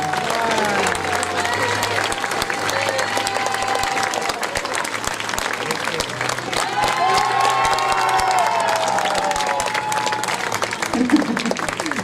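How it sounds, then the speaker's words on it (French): An outdoor audience at a Venice-style costumed carnival parade in Chanaz claps and cheers for costumed performers, a sustained roar of applause with shouts, whoops and children's calls rising over it. "On peut les applaudir bien fort."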